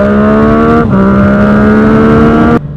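Yamaha MT-09 motorcycle engine held at a loud, steady high rev, with a brief dip in pitch before climbing again, then cutting off abruptly near the end.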